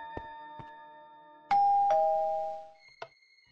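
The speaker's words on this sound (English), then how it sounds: "Oh, that's the doorbell." A doorbell in the video game Minecraft rings a loud two-tone ding-dong that fades out, with a few faint clicks before it and one after.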